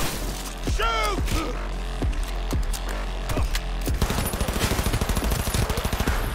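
Gunfire in the Cyberpunk 2077 video game on PS4: loud single shots and bursts, building to rapid automatic fire in the second half, over a dense game soundscape.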